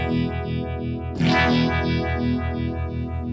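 Electric guitar played through a NUX MG-30 amp model set to an LT preset, a sustained chord ringing with a wavering chorus-like shimmer, then a fresh strum about a second in that rings out loud and full.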